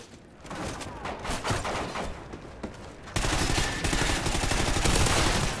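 Rapid Honey Badger gunfire in a Call of Duty: Ghosts free-for-all multiplayer match: dense bursts of automatic shots that grow louder and more continuous midway, close and sustained with no talk.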